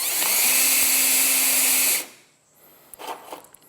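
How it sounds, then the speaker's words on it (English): A power drill fitted with a 1/8 bit bores into the metal frame of a 1997-03 Ford F150 truck, a loud steady whine for about two seconds that then cuts off, followed by faint handling clatter. "I'm going to go ahead and drill our first hole."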